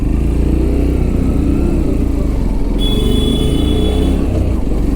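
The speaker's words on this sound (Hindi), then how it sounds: "बाइक सीधी आगे ले जाओ।" A motorcycle engine drones steadily while being ridden on a rough mountain trek road, a loud close rumble throughout, with a faint high tone entering partway.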